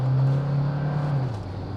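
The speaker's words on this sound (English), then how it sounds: "you hear the petrol motor's kicked in" A 2025 Hyundai Tucson hybrid's petrol engine starts up and runs in first gear, giving a steady low drone that holds level and then drops in pitch slightly near the end, heard from inside the car with no talking.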